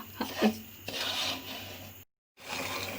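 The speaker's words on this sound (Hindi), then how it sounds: "इसको हल्की आंच पर 15 से 20 मिनट भूनेंगे और चमचे को मुसलसल चलाते रहेंगे" Semolina roasting in a pan over low heat while a spoon keeps stirring it, giving a soft, close scraping and rubbing sound that breaks off briefly near the end.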